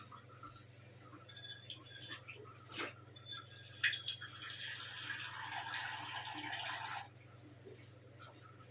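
Two cups of water pour into a tea pot with a soft, near splashing trickle that grows steadier for a few seconds and then stops, after a few faint clinks over a low background hum.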